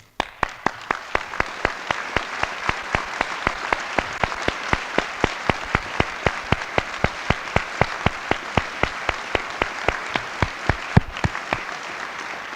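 Sustained audience applause in a hall honoring distinguished alumni at a 1975 homecoming ceremony, a dense steady wash of many hands clapping at even loudness with no talk throughout.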